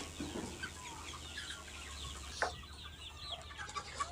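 Chickens cluck softly at close range over a low steady hum, with scattered quiet calls and one sharper squawk midway, in a poultry shed under a warming bulb.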